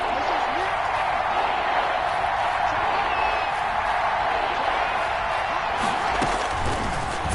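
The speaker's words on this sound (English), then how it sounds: "the crowd getting into it as we come up on a big third down" A football crowd at a tournament game roars and cheers steadily ahead of a big third down, a dense wall of noise with faint whistles and claps mixed in.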